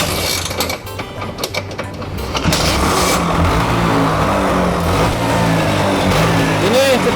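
A Vespa PX 70th Anniversary scooter starting up, with mechanical clicks and kicks first, then the small engine catching into a steady, close idle; a faint voice in the background.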